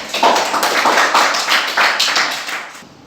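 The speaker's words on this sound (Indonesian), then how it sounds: "Tepuk tangannya dulu." A classroom audience claps together in a short, dense burst of applause that tapers off after about three seconds.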